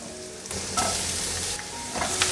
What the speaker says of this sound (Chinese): 把香菇炒香， 炒到香菇有微焦了